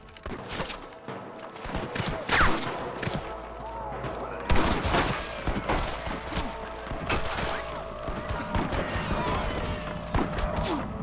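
A sustained Red Dead Redemption gunfight on Xbox 360, with dense, overlapping rifle and pistol shots cracking continuously for several seconds, some louder hits standing out amid the barrage.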